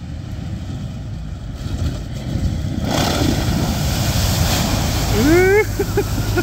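Wind and rushing water dominate as an unloaded Sherp amphibious vehicle with a trailer moves into a lake, with a low engine hum and a faint rising whistle near the end.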